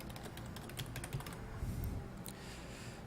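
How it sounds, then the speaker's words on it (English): Keys clatter on a computer keyboard in a quick run of close, crisp taps, then thin out into a few scattered strokes with a short pause near the end. "and let's just type"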